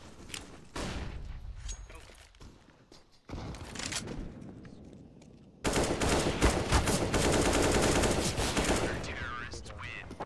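Rapid bursts of automatic gunfire in the CS:GO video game, starting sparse and then turning into dense, loud, sustained firing over the second half, with scattered clicks and footsteps.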